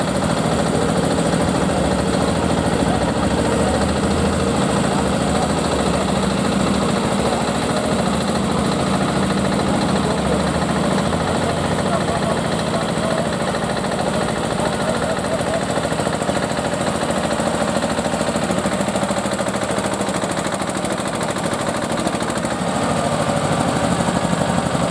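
A single-cylinder 15 hp tractor pulls a heavy load at a tractor pulling event, its engine thumping in a loud, steady, rapid rhythm that runs for the full stretch.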